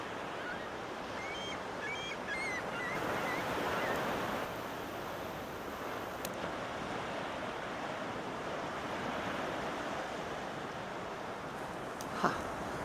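Ocean surf washing onto a public beach at Hilton Head, South Carolina, a steady broadband rush of breaking waves with some wind across the microphone, no voices, and one sharp knock near the end.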